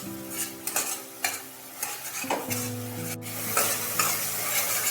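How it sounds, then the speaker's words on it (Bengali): Jackfruit curry is stir-fried in oil until the oil separates, giving a continuous sizzle with repeated spoon scrapes and knocks against the pan, close up and without talk. "এবার দিয়ে কষতে হবে যতক্ষণ না তেল বেরোচ্ছে একটু, ততক্ষণ কিন্তু কষিয়ে নিতে হবে ভালোভাবে"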